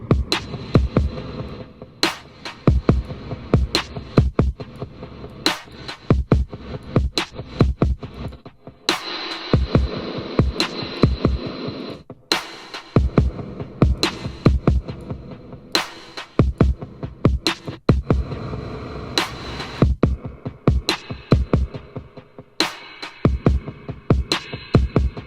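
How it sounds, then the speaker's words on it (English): UJAM UFX-Reverb ambience reverb preset demonstrated on drums, a steady pattern of punchy hits with short roomy tails repeating throughout, clear and fairly loud with no talking. "So ambience, these are some basic reverb sounds."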